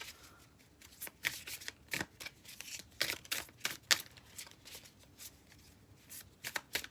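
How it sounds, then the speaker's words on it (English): Thick tarot cards being shuffled by hand, a run of crisp riffling bursts and soft slaps repeating in an uneven rhythm, close and fairly quiet with no talking. "They're not like extremely hard to shuffle, but they are thick."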